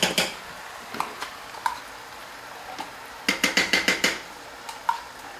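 A metal spoon scooping about 12 ounces of tomato paste for a lasagna sauce, giving light clinks and taps against a dish, scattered at first, then a quick cluster of strikes.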